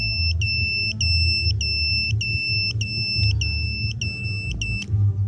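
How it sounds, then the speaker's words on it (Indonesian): A racing drone's lost-model buzzer beeps in a steady, evenly spaced series of about nine shrill, high-pitched tones over a low rumbling background. "Jadi nanti buzzernya bakal pip pip pip ngikutin kita pilotnya ya"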